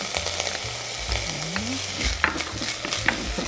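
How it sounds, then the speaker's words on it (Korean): Chopped green onion stir-fried in about a spoonful of cooking oil in a pan, a steady close sizzle with spatula scrapes and clinks, and a brief low hum in the background. "그래서 파 먼저 이렇게 볶아줍니다"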